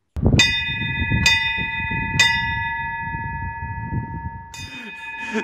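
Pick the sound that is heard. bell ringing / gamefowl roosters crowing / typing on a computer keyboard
bell ringing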